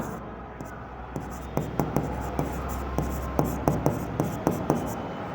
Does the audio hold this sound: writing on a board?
yes